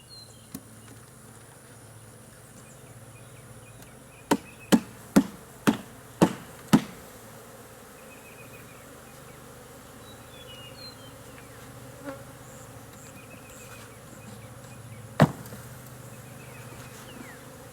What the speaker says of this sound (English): We need to dump the rest of these bees in there just in case she's up here.